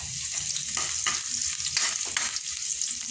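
Garlic and ginger frying in a pan, a steady close sizzle with intermittent scraping stirs about every half second, no talking.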